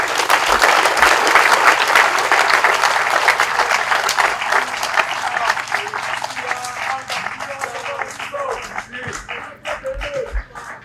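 An audience applauds loudly after a speech at a Congolese event on Lake Kivu gas exploitation, the dense clapping slowly thinning into scattered claps with a few voices.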